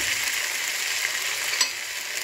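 Potatoes sizzling in a pan of spices for aloo gobi: a continuous bright hiss and crackle, close and even, with one small tick of stirring near the end.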